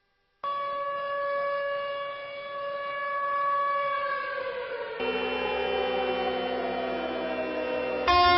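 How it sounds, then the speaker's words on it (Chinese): Civil defense sirens wail in mourning for the 2008 Wenchuan earthquake victims at the Sichuan rescue site: sustained, loud tonal howls that slowly drop in pitch before a second siren layer joins, continuous and without voices. "在四川抗震救灾的抢险现场，警报声久久回旋"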